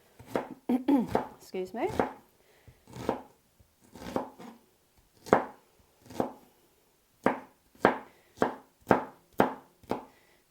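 A knife chopping an onion on a cutting board, with close, crisp chops in irregular bursts at first, then a steady run of evenly spaced strokes; a voice briefly speaks between cuts.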